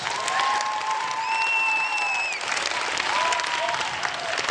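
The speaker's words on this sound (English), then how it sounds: "Let's give them a big round of applause" Audience applause for a live circus stunt by a performing team, a steady dense clatter of clapping lasting the whole stretch, with whistle-like tones and a few voices calling out over it.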